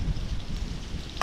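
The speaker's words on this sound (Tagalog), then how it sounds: "Para kang may pamaypay na yung hangin." Wind gusts buffet the microphone at an outdoor riverside cooking spot, a steady low rumbling rush with a brief clatter at the end and no talking.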